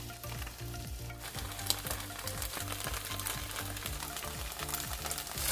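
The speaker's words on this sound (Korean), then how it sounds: "예열된 팬에 식용유를 넉넉히 두르고 두부가 서로 붙지 않게 놓고 중불에서 노릇하게 구워줍니다." Tofu coated in potato starch pan-fries over medium heat in a generous layer of cooking oil, giving a steady, dense, crackling sizzle throughout, with a faint rhythmic low background underneath.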